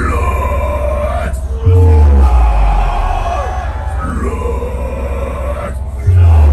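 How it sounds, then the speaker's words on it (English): Metal festival crowd at an outdoor live show roaring a single word back in unison, two loud bursts of massed yelling rising over the band's droning noise. "You show me what you've got, you scream right after me."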